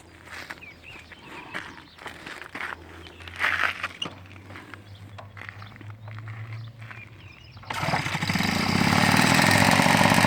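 A Peugeot 103 racing phase 2 moped engine starts up near the end and runs loud and steady after quieter handling noises, a low hum and footsteps.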